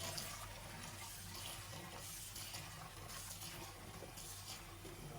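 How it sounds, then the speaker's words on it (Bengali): Lentils being rinsed in water for a Bangladeshi fish and tomato chorchori, with water running steadily and splashing throughout, fairly faint and continuous with no talk. "এখন আমি ডালটা সুন্দরভাবে ধুয়ে নিব, পানি দিয়ে পরিষ্কার করে নিব।"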